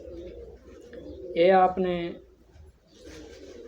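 Pigeons coo in a low, rolling call that swells loudly for about a second, with someone speaking nearby before and after.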